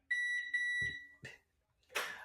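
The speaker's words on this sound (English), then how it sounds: "That was my wheelchair, by the way. beep beep." An electric wheelchair gives a run of high electronic beeps, two sustained tones in a row, followed by short clattering and rustling noises, all close and fairly loud.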